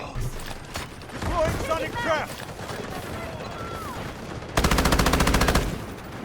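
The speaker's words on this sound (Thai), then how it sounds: "ข้อดีของปืนกลหนักคือเราสามารถยิงไปเลยโดยที่ไม่ต้องเล็งก็ได้นะ" A heavy machine gun in the shooter game Delta Force fires a loud, rapid, evenly spaced burst near the end. Before it there is excited talk and scattered game sounds.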